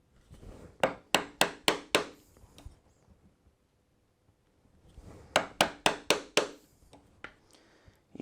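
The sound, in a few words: chisel tapped with a mallet, chopping a mortise in wood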